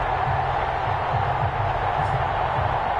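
A stadium crowd before an NFL game between the Jacksonville Jaguars and Indianapolis Colts sends up a steady roar of broad cheering and noise, with a voice faintly woven into the din.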